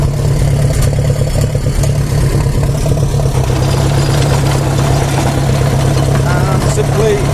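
A Ferguson TED20 tractor engine runs steadily with a low, loud, close throbbing drone and mechanical clatter, heard from the seat while a fingerbar mower is in use.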